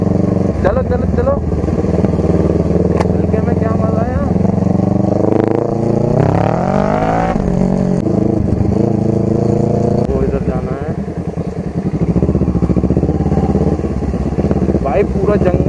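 A Kawasaki Ninja 650 motorcycle runs at full speed off-road through a forest, its engine droning loud and continuous with rising pitch sweeps as it accelerates, while a rider talks over it.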